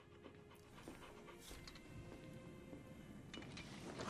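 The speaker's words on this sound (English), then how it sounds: "Puppy." Soft, rapid panting from a puppy in Final Fantasy XVI, faint and continuous over quiet game ambience with no voices.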